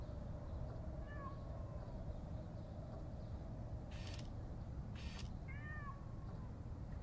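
A cat meows twice in the video game Conway: Disappearance at Dahlia View, short rising-falling calls near the start and again toward the end over a low ambient hum, with a couple of brief clicks in between.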